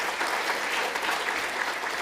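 A lecture audience at Northwood welcomes a guest speaker with steady, even applause, a continuous wash of clapping from a sizable crowd with no voices over it.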